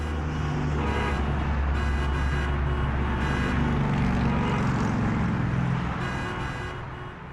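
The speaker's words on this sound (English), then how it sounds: "those traffic sounds, those horns" Busy street traffic rumbles steadily with engines and passing cars, while several short car horn toots sound in bursts throughout, the whole scene loud and continuous before easing slightly at the end.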